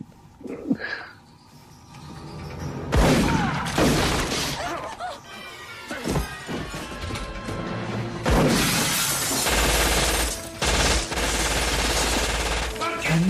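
Loud bursts of film gunfire shatter windows and furniture in an action scene from On Deadly Ground, with rapid shots, crashing glass and breaking debris in several dense waves, while a voice speaks briefly beneath.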